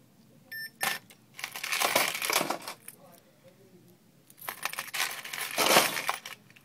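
Solid yellow and white gold jewelry, rings, earrings and necklaces, clinks and jingles in two handled bursts with a couple of sharp metallic taps between, close and moderately loud with no talk.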